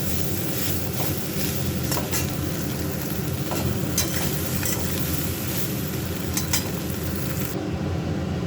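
Soybean chunks sizzle in hot oil with salt and turmeric, a steady close frying hiss broken by occasional scrapes and clinks of a stirring utensil in the pan.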